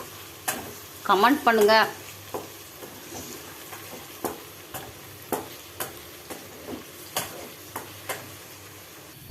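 A spoon stirs and sautés in a frying pan while brinjal kulambu cooks, producing a steady sizzle with regular soft scraping ticks about every half second; a voice speaks briefly near the start.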